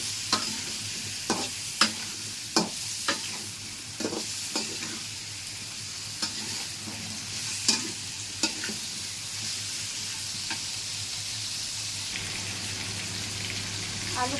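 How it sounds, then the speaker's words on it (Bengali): Potato and pointed gourd pieces fry in hot oil with a steady soft sizzle, while a spatula scrapes and knocks against the pan in irregular strokes, close by and with no voices. "আগে আলু পটলগুলো একটু ভেজে নেব।"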